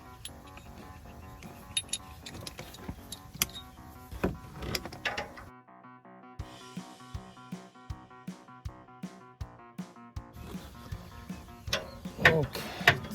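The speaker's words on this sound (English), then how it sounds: "offset wrench." An offset wrench works loose an oxygen sensor on a 2003 Toyota RAV4. A close, evenly spaced run of small metallic clicks sits between rustling handling noises, with no talking.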